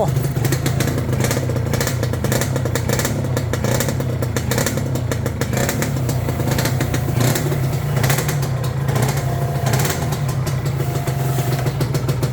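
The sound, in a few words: 90s Yamaha TZR motorcycle engine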